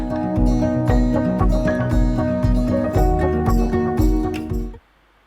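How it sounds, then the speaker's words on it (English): A rhythmic music track with a strong beat plays steadily, then quickly drops away near the end into quiet. "fade the audio track out"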